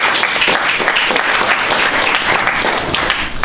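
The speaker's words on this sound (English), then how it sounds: "Give Ben a round of applause." An audience at a Stop Copy City activist speaker event applauds a speaker, steady dense clapping from a crowd filling the whole moment with no voices on top.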